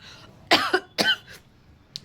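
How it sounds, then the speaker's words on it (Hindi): A woman coughs three or four times in a short burst, loud and close, with brief gaps between the harsh bursts and a faint trailing sound at the end. "ज़्यादा बोल लिया ना, खांसी उठ गई।"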